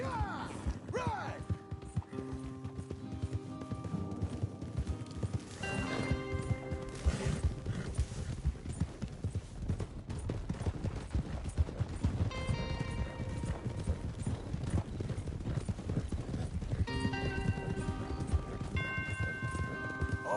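Horses ridden in Red Dead Redemption 2 in the Old West, hooves clip-clopping steadily and close under continuous game music, with a brief whinny and some voices mixed in.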